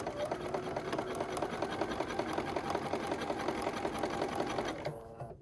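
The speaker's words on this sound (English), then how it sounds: "let's go over to the sewing machine" A sewing machine running a straight seam on a bag's double-folded edge, its needle hammering in a fast, even rhythm close up, steady and unbroken before stopping abruptly near the end.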